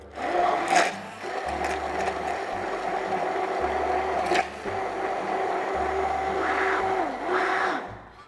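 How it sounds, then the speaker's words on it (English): A hand blender blends eggs for a homemade sauce, giving a steady, close motor whine with brief dips in pitch and a few clattering knocks. "we're just going to blend this together"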